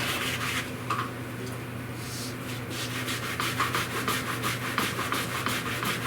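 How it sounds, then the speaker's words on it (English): A magic eraser with rubbing alcohol scrubs a part from a Compaq Portable keyboard, giving a continuous close rubbing and scratching with quick repeated strokes under a steady low hum. "dig that magic eraser in there. It becomes basically a light abrasive at that point"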